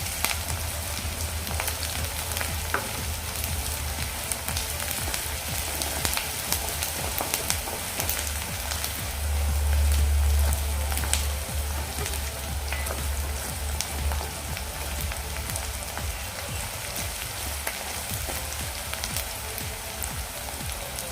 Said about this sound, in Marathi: आलं आणि लसणाचा फक्त कच्चेपणा जाईपर्यंत आपण हे परतून घेणार आहोत